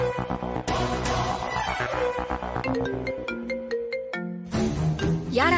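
A mobile phone ringtone plays a bright melodic tune for an incoming call in a Tamil TV serial, loud and close and continuing without pause. There is no talk over it.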